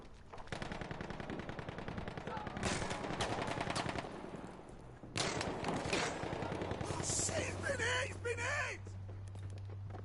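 Rapid gunfire and rocket-gun blasts from the Battlebros video game rattle in dense bursts, pausing briefly before another volley, with a steady low game hum underneath.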